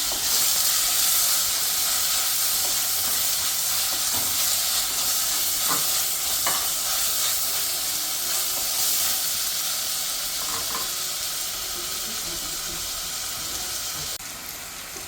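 Tomatoes and green chillies frying in a pan with a steady loud sizzle and hiss throughout, plus occasional faint stirring scrapes.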